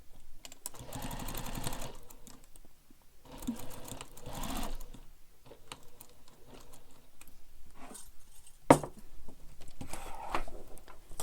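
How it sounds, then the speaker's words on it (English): A sewing machine stitches through several layers of backpack fabric in bursts of rapid needle clatter separated by pauses, fairly close and moderately loud, with one sharp click partway through. "You're just sewing through the E layers."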